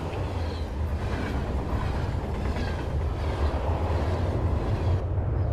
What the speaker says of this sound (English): the two trains pass in a whirlwind of sound